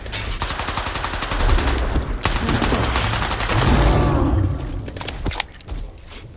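Rapid, loud gunfire bursts in the S.T.A.L.K.E.R. 2 shooter game, a sustained dense volley of shots with heavy low booms, then a few last sharp reports before it trails off.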